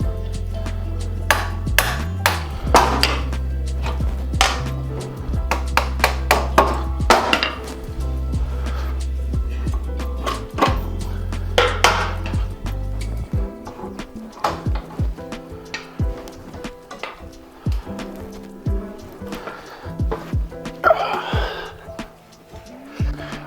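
A mallet knocks at a bicycle rear wheel to free it during a Gates belt drive installation, giving a run of sharp, irregular taps and clinks, close by, over a steady low hum for the first half.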